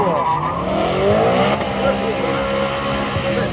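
A supercharged car engine revving hard and smoking, its loud, close pitch sweeping up and down with tire squeal mixed in, while excited voices react in the background.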